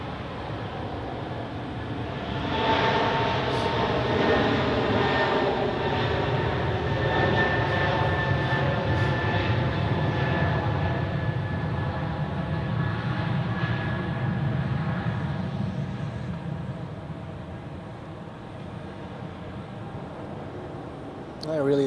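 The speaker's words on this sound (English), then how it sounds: "Turkish A330 gets closer, so we will have a look at it" A Turkish Airlines Airbus A330 on short final to runway 14 at Zurich gives a loud, steady jet engine roar that swells and slowly fades, with a faint voice talking over it.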